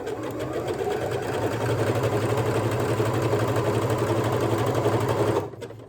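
A sewing machine stitches elastic onto stretch fabric in one steady, close run of fast rhythmic needle clatter that stops abruptly near the end.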